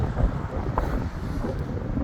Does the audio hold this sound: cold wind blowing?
yes